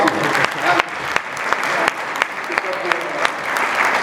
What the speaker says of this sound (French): Un peu d'applaudissements quand même